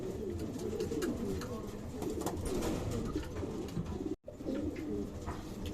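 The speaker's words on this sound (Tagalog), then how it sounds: "So ito ngayon, may hawak tayo isang hen na apo ni Whitelight." A racing pigeon hen coos in a steady, continuous murmur close by, with soft rustling and faint background sounds and one brief dropout near the end.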